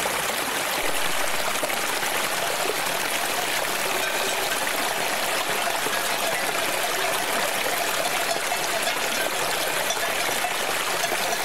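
A river flows steadily in the open, its broad, continuous rush of water staying even and fairly close throughout with no voices over it.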